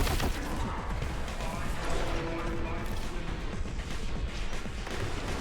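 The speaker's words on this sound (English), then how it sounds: "I don't know if I can be heard over the loud gunfire" Dense, continuous gunfire and crashing impacts fill a Boltgun video game battle against summoned demons, loud and unbroken throughout with no clear pauses, a voice faintly present beneath the din.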